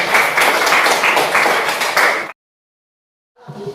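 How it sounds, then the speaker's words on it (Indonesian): Loud, close applause from a classroom group after a presentation, steady clapping that stops abruptly, followed by silence and then a faint rustle. "hasil kerja kelompok 2 kita beri tepuk tangan"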